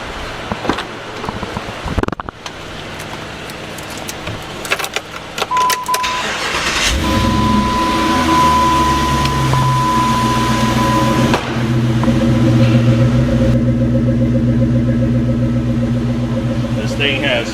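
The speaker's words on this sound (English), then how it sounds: "There's also a high flow muffler on here, so we'll go ahead and fire it up so you can hear that." A car fitted with a high-flow muffler and black exhaust tip cranks and fires up, settling into a loud, steady idle with a deep exhaust drone and a sustained whine, close by.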